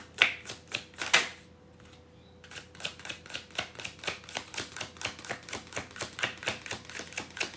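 Rapid, crisp riffling of tarot cards with sharp clicking bursts, then a long steady run of evenly spaced flicks, close and fairly quiet, no talking.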